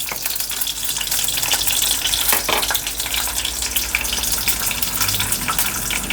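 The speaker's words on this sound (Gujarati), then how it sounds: "હવે આ તેલ આવે એટલે હું જીરું નાખી અને વઘાર નાખું." Cumin seeds sizzle in hot oil for tempering potato poha, a loud continuous hiss and crackle close up that holds steady without talk.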